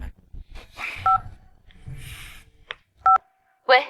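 Touch-tone keys beep on a telephone being dialed for a call, a few short sharp tones spaced apart between bits of nearby talk and rustling.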